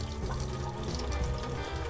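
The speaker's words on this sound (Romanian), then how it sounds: "o chiuvetă, nu foarte adâncă, dar suficientă pentru noi, și o baterie cu apă rece și caldă" Water runs steadily from a hot-and-cold mixer tap into a shallow kitchen sink inside a Westfalia Amundsen 600D campervan, a close, continuous splashing stream with no talking.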